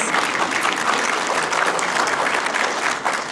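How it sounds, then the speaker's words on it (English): Sustained audience applause at a lecture hall talk, steady dense clapping from a large seated crowd lasting throughout, with no voices over it. "give him a round of applause"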